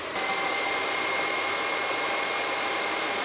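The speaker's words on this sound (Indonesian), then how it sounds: "jadi ini tipenya blower. Angin kesedot dari bawah, tembak ke atas" Blower-type laptop cooler fan running at high speed, drawing air from below and blasting it upward, producing a loud, steady broadband whoosh with a faint whine, continuous and close with no talking.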